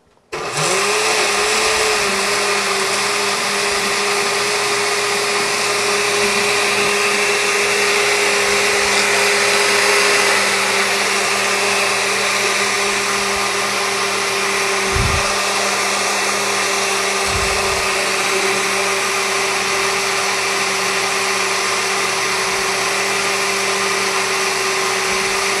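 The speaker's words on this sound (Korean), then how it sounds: "오늘은 꼭 믹서를 사용하셔야 됩니다. 2분 정도 갈아주시면 돼요." A blender runs steadily for the whole stretch, puréeing vichyssoise soup with onions, a loud continuous motor whine with a grinding churn, no voices over it.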